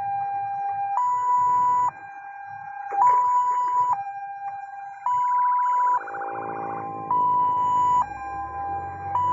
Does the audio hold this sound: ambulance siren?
yes